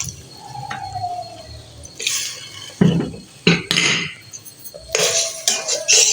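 A cup of water goes into a cooking pan of peas for matar pulao, splashing and sizzling in bursts, with metal clinks of the pot and spoon in between, close and fairly loud.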